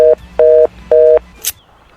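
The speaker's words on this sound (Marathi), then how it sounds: "फोन लावतो त्याला फोन लावतो मी" A telephone line plays three evenly spaced steady beeps of a ringback or busy-type call tone as someone places a phone call, loud and close, followed by a brief click.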